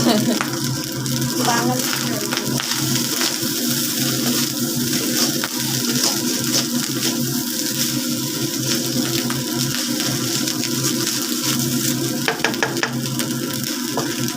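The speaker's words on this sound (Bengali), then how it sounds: "ভাত ভাজা ওরফে ফ্রাইড রাইস হয়ে গেছে" Cooked rice fries in a pan for fried rice, a continuous close sizzle with stirring scrapes and some faint voices in the background.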